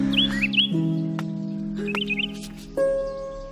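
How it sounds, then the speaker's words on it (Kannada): Birds chirp in short, high twittering bursts at a couple of moments, set against a steady, sustained musical drone that carries through the whole stretch. "ಹಕ್ಕಿಗಳು ಕಲರವ ಕೇಳಿಸ್ದಾಗೆಲ್ಲ"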